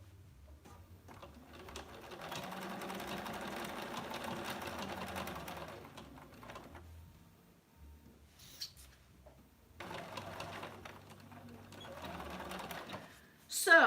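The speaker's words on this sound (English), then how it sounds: "And I might sew this twice just to reinforce it." A sewing machine stitches through layered fabric for an oven mitt in two long runs of steady, rapid motor whirring, separated by a quiet pause and a brief clatter.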